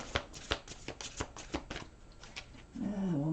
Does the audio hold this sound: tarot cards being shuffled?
yes